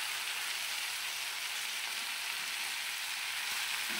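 Dried mushrooms fry with onions in a pan, a steady, dense, close sizzle that stays even and unbroken throughout.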